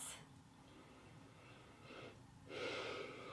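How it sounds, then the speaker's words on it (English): Slow, deep breaths during a seated yoga session: a soft inhale near the start, another around the middle, and a fuller, louder breath toward the end, quiet and close in a calm room. "We'll just take a few deep breaths."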